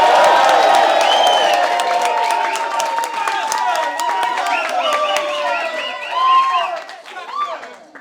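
A crowd at the final of a Battlegrounds rap battle erupts in cheers, whoops and clapping, loud and dense at first, then thinning into scattered shouts and fading claps.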